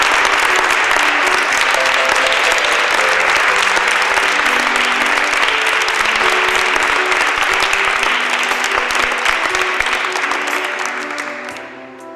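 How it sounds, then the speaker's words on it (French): Loud, sustained applause from a crowd at a choir performance fills the space, dense and steady before tapering off at the end. "On va les entendre applaudir."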